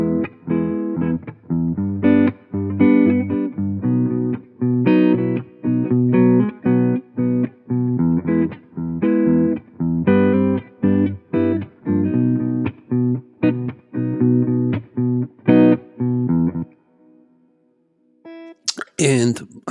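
Guitar strums triads and their inversions over a backing loop, chords struck in a steady rhythm with short gaps, ending in a brief pause and a burst of noise.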